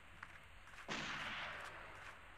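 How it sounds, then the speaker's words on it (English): Gunfire in the horror video game Curse of Melas, a single muffled blast with a short rumbling tail, distant and moderately loud. "Somebody's shooting."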